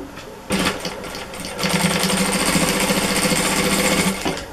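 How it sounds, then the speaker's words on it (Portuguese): Sewing machine running steadily as it stitches a seam down the centre of a fabric bread basket, a loud continuous mechanical whir that starts after a short pause and picks up speed partway through. "eu vou fazer uma costura aqui no centro, ó, no centro onde eu risquei"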